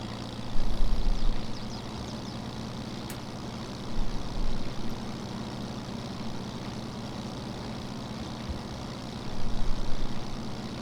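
An old tractor pulling a trailer in Farming Simulator, a steady low engine drone running throughout with a few brief louder swells, no voices.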